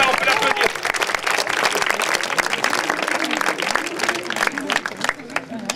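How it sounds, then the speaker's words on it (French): Audience applause at a youth sports awards ceremony, dense steady clapping from a sizeable crowd filling the whole stretch, fairly close and loud with no talk over it. "Voilà, on peut l'applaudir."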